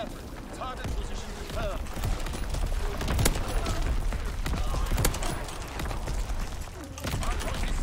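Rapid primary-weapon gunfire in a first-person video game crackles in dense bursts with sharp shot peaks throughout, while a player talks over the action.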